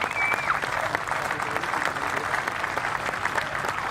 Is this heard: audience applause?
yes